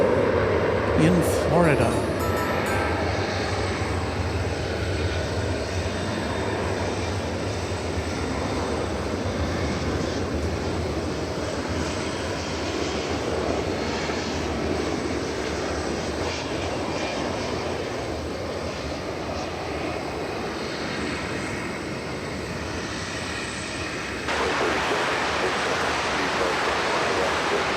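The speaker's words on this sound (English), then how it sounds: "A 757 arriving from Fort Lauderdale" A UPS Boeing 757 jet arriving at DFW Airport roars steadily and loudly for a long stretch, a broad continuous engine rush, while radio voices talk briefly over it.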